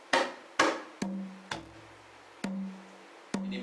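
Javanese kendang drum playing an opening pattern for a lancaran piece: six separate hand strokes in an uneven rhythm, mixing sharp dry slaps with ringing tuned strokes whose low hum lingers between hits, close and clear with no talk.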